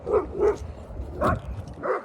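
Dogs bark in four distinct bursts spread across about two seconds, fairly close and moderately loud, with no talking over them.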